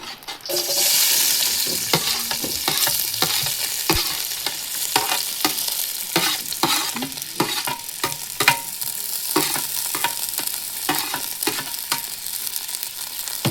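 Onions and cashews sautéing in coconut oil in a pan: a steady loud sizzle with frequent scraping and clacking stirs of a spoon against the pan, close up and without talk.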